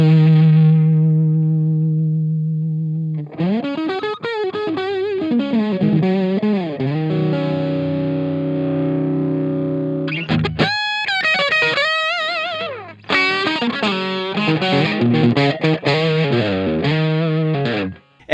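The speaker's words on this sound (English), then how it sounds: "The overdrive has a screamer type voicing with that mid hump." Electric guitar through the screamer-type overdrive of a Gokko AXE MX300 multi-effects unit, mid-humped and not pushed into full distortion, playing sustained chords and melodic runs, loud and continuous with brief pauses, no talking.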